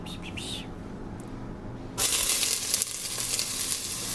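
After a couple of quiet seconds, one medium diced onion hits hot oil in a soup pot and bursts into a loud, bright sizzle that continues steadily and close.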